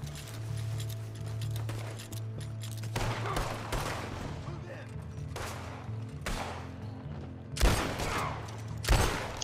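Gunshots ring out in Red Dead Redemption 2 Online, a handful of sharp cracks at irregular intervals over a steady low hum of game ambience, with the last two shots loudest.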